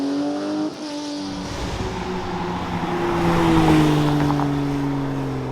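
A vintage Porsche pulls hard through second and third gear, the engine note climbing, dropping at a shift, then rising again, loud and close throughout with no talk.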